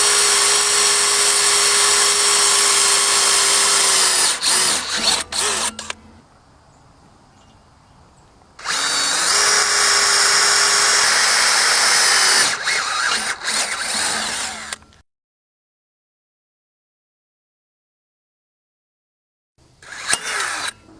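A power drill with a 3/8 bit bores holes during a mounting-bolt installation, whining steadily in long bursts at close range, broken by pauses and near-silent gaps, ending with a brief restart.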